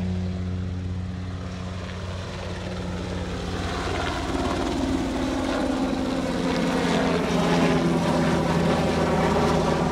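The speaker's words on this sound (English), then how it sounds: "It's a helicopter taking off from Ogle." A helicopter taking off from Ogle, heard outdoors beside a road, its engine and rotor drone steady and fairly close, building gradually louder over ten seconds with no talking.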